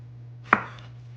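A knife chops potatoes into cubes with one sharp, close thump on the cutting board, followed by a short fading ring and quiet hum.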